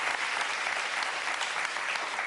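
A studio audience at a televised political talk show bursts into sustained, dense applause that fills the whole moment at an even, strong level.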